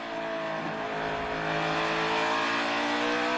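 NASCAR stock cars in the All-Star race, a loud sustained roar of engines that swells slightly as the cars pass, steady throughout with no speech.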